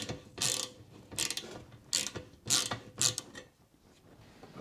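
A ratcheting tool is cranked in several sharp bursts while one end of an exhaust dent removal tool is tightened on a two-stroke expansion chamber. Each burst is a close, crisp clatter of clicks, separated by short pauses.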